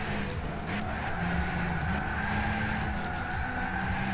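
Mazda Miata race car in the Gran Turismo 6 racing game, its engine droning steadily at close range with shifting pitch, a brief tire squeal or skid mixed in, no talking.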